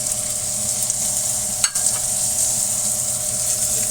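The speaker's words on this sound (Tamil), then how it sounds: "வெங்காயம் போட்டு வதக்கிக்கலாம்." Onions sautéing in a pan with ginger and garlic for pepper chicken, a loud continuous close sizzle and crackle, broken once by a brief scrape of stirring.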